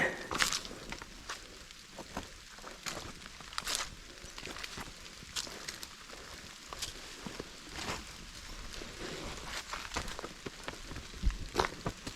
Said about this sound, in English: the drizzling rain adds to a nice little mystique to it.